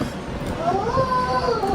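A high, wavering wail rises and falls in the background behind low room noise, brief and fairly distinct, like a small baby crying.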